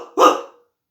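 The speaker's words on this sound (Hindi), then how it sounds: "कुत्ते शहर के उसके पीछे पड़ गए बहुत बुरी तरीके से" A single loud dog bark, close and short, used as a sound effect for city dogs turning on a jackal in a Hindi folk story.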